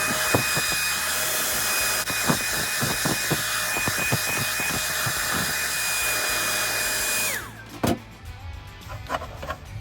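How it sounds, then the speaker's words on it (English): A hair dryer blows steadily and loudly over a freshly washed Axial AX24 RC car body shell, a constant whine with light knocks, then cuts off shortly before the end. "Give it a shake, and we'll dry with a hairdryer."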